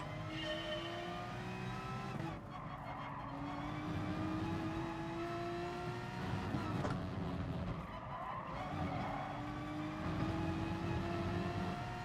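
A Porsche race car engine in Gran Turismo Sport screams through the gears, its pitch climbing steadily, dropping at each upshift and climbing again, loud and continuous with faint tire noise.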